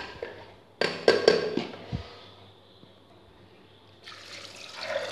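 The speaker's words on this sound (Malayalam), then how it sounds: "സ്വല്പം മുമ്പിലായിട്ട് ഇച്ചിരി വെള്ളം ഒഴിക്കുക" Water is poured over green peas in a pressure cooker: a few sharp clatters, then a soft steady trickle, with a brighter splash rising near the end, close and moderate in level.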